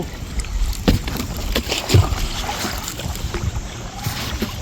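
Oars dipping and splashing in water in an irregular rhythm, with soft wind and water trickling around a small wooden boat that keeps turning.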